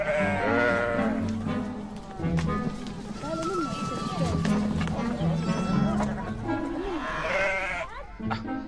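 Sheep bleat repeatedly while being caught, wavering cries rising over scuffling movement, with people talking throughout.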